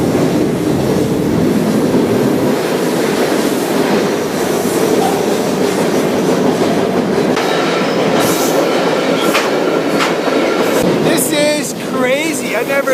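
Freight train rolling past near a forest fire in the Pacific Northwest, a steady loud rumble of wagons with clanks and brief wheel squeals toward the end, heard up close while riding.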